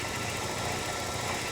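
An old Saab car engine idling while cold, a steady broadband rumble with a slightly uneven, fluctuating idle, heard close with no talk.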